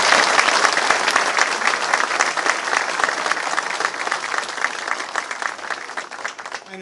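Sustained, loud applause from a large audience at a gubernatorial bill signing greets a union leader, a steady dense roar of clapping lasting the full stretch.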